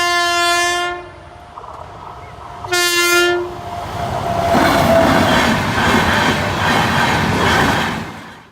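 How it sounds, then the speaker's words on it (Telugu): Two loud, sustained train horn blasts, the first about a second long and the second shorter, sound over the steady rumble and rattle of a passing train. After the horn the rolling clatter of the railcars keeps going. "ఆ సంకేతాల్లో అత్యంత ముఖ్యమైనది రైలు హారన్."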